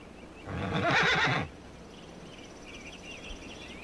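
A horse whinnies loudly and close for about a second, a single shaky neigh over a quiet outdoor background of faint insect-like chirring.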